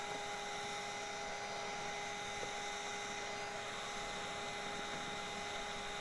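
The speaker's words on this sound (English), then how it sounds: "I just use the vacuum. I just let it suck up a bunch of dirt." A vacuum drones steadily while sucking up dirt from a yellow jacket wasp ground nest, a continuous even whine with tonal hum, unbroken and fairly loud throughout with no voices.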